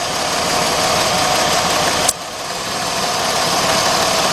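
The idle of a 2006 Jeep Grand Cherokee 3.7 engine, its misfire repaired, holds a steady close hum, interrupted midway by a brief sharp click and dip before it settles back.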